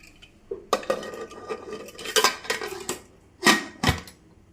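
Metal pressure cooker lid and pot clanking as it is handled and closed in a home kitchen, a series of sharp close clinks and knocks in irregular bursts with no talking.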